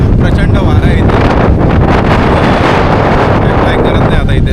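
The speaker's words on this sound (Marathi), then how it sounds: "बघू शकता तुम्ही, आवाज पण येत असेल वाऱ्याचा." Strong wind blows across a hilltop fort and roars constantly into the microphone, a loud, unbroken buffeting rush that fills the whole stretch.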